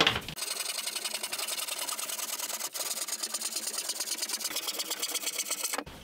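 A power saw cuts along the edges of a wooden TV cabinet top, a loud continuous buzzing rasp with a fast rapid pulse that runs steadily for several seconds before stopping abruptly.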